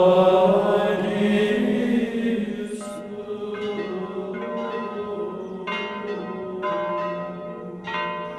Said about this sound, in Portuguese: Os sinos da catedral vieram da Itália.